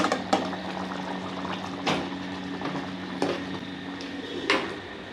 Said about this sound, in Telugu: చికెన్ కర్రీ బాయిల్ అవుతుంది